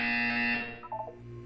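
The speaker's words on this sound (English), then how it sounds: "You will hear a buzzer." A short electronic buzzer tone from the video game Portal 2 sounds loudly for about half a second and then trails off into quieter background tones.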